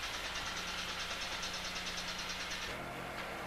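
Asphalt paver engine running steadily at a road paving job, a close, fairly quiet mid-pitched drone with a constant hum that shifts slightly near the end, with no voices.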